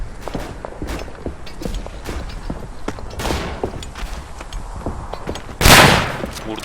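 Rifle fire in the World War I shooter game Verdun, with footsteps and rattling movement under scattered distant shots and one loud, close blast near the end.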